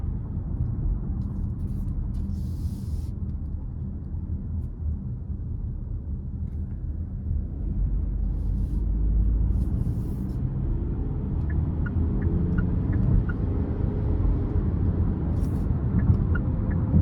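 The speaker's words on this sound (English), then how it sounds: "give it a little throttle in smart mode getting on the interstate" A 2022 Hyundai Tucson N Line in smart mode accelerates onto an interstate, heard from inside the cabin as a steady low engine and road rumble that swells slightly as it gains speed.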